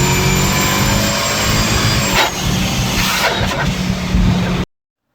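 A twincharged track car engine revs hard as boost shifts from supercharger to turbocharger, a loud, close, sustained roar with a rising whine and whooshing tones that stops abruptly near the end.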